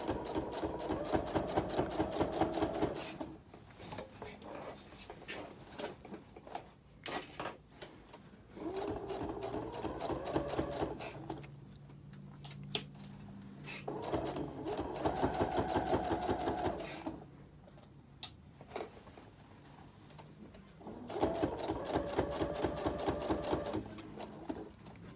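A sewing machine stitches a replacement zipper in bursts of rapid, steady whirring, pausing briefly between runs; no one speaks.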